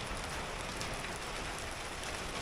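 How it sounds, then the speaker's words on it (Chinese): Steady rain falls outdoors during a spring shower with hail, a dense, even patter on surfaces that stays constant throughout, with no voices. "下雨就下雨呗，你下雹子干什么？"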